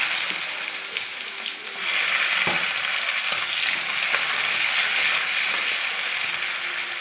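Onions go into a wok of hot oil after fried katla fish, and a quiet hiss jumps into a loud, dense sizzle with a couple of stirring clacks, then holds steady.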